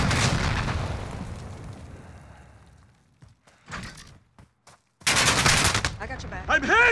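Gunfire in a Call of Duty Modern Warfare team deathmatch against bots: dense, loud bursts of shots at the start, then a few scattered single cracks, and a fresh heavy volley near the end.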